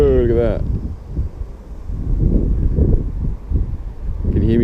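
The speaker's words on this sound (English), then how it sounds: "Can you hear me over the wind?" Wind buffets a microphone outdoors by the sea among seagulls, a dense low rumble lasting throughout, with brief voice-like tones at the start and end.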